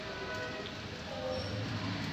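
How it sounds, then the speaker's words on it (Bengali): Steady rain falls at night over Dhaka, a continuous close wash of patter and hiss with no breaks, heard alone. "এখন আবার এই যে একদম রাত লেগে গেছে আর বৃষ্টি।"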